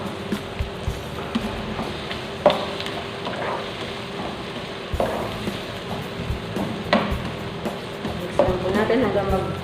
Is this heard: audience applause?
no